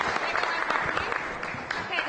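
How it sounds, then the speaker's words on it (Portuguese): An audience claps in a dense, sustained burst of applause, many hands at once, fairly close and lively throughout. "mais aplausos, pessoal"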